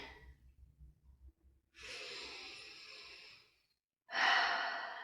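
Slow, audible breaths while a stretch is held during hip and back pain relief exercise: a long, airy exhale near the mic, a pause, then a sharper, louder breath, over faint low background thumps.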